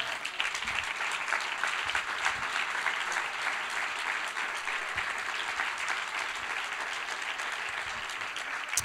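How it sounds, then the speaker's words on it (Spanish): A church congregation applauds for Eduardo and Eunice, dense sustained clapping from many hands filling the room at an even, fairly loud level for several seconds. "un aplauso, Señor."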